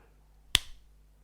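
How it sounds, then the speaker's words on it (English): A single sharp hand clap, quiet and close, standing alone in an otherwise still room. "I had to clap"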